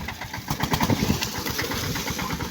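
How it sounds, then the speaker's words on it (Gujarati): A tractor engine runs steadily nearby on farmland, a loud continuous chugging rumble with a fast pulsing beat and no talk over it. "ટ્રેક્ટર ચલાવવાની શરૂઆત કરી દીધી"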